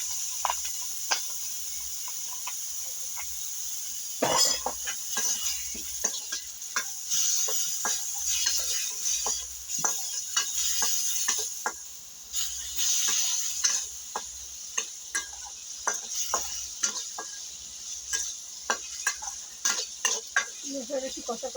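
Masala cooking in a pan with a splash of water, sizzling steadily while a spoon scrapes and stirs, giving irregular clicks and taps over a continuous frying hiss.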